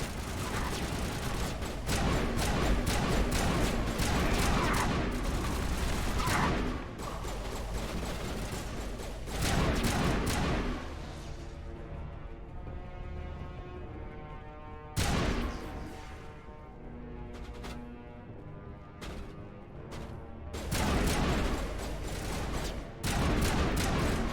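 Assault rifle fire in the Mass Effect 1 Legendary video game, rapid clattering bursts that repeat in several loud volleys separated by quieter stretches of mechanical noise.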